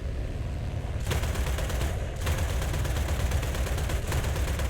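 A bomber's turret gun in the War Thunder combat game fires long, continuous rapid bursts, a dense rattling stream that stops briefly twice, heard over engine drone.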